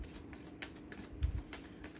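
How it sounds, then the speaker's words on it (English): A deck of tarot cards is shuffled by hand in repeated quick riffling bursts, soft and close, with rhythmic flutters and light slaps and no talking. "I'm just shuffling the hell out of this deck"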